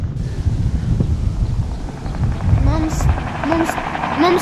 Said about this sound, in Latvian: Mums tuvojas helikopters.